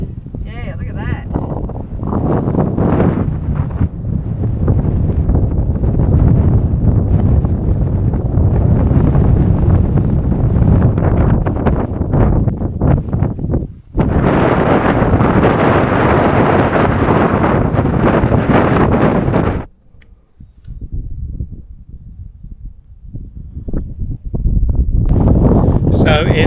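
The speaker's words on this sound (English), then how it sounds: "It's too windy." Strong wind buffeting the microphone on the Big Red dune in the Simpson Desert, a loud continuous roar with gusty surges, a brief dip near fourteen seconds and a quieter spell near twenty before it returns; voices talk over it.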